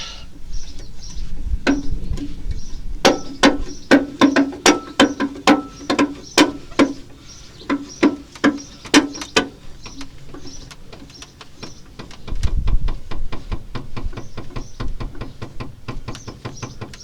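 Clicking knocks and ratchet-like clatter of a car subframe, on an MG TF, being jacked down onto wooden blocks, with a run of sharp, regular clicks in the middle, then a heavier low thump and faint mechanical rattling.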